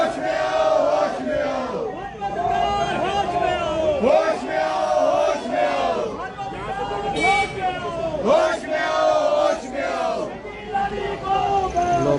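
A crowd of Congress workers shouts and chants in protest against Smriti Irani in Himachal, loud rhythmic collective yelling with overlapping voices throughout.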